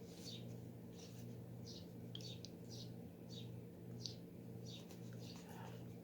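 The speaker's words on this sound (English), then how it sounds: "I hear the birds out there." Faint birds at a feeder outside chirping at a distance in short, repeated high calls over a low, steady background hum.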